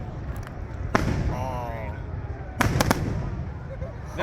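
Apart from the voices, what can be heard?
fireworks exploding on Canada Day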